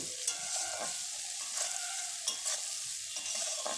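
Carrots fry in oil left over from frying fish, a soft steady sizzle under regular, rhythmic stirring strokes of a spatula against the pan, close and fairly quiet.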